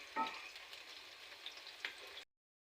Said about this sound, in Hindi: फ्लेम को हाई कर देंगे, प्याज जो है उसको गोल्डन ब्राउन होने देंगे।